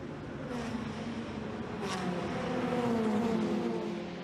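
Ferrari 488 Challenge race cars running downhill under a bridge at Imola, heard faint and distant as engines whine and pass by over a few seconds, with no voices.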